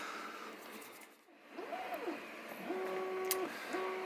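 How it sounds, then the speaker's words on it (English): A 3D printer runs in the background, its stepper motors giving faint tonal whines that sweep and hold in short phrases over a low hum. "the 3D printer's running"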